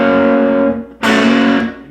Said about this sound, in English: you want to strum all 3 of them pretty firmly, and then hammer down your middle finger only on the 3rd string